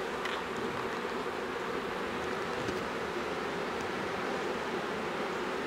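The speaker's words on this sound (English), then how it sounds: "See those big bees in there?" Honey bees hum steadily inside a hive with drones among them, a dense, even buzz that holds at a constant level close by throughout.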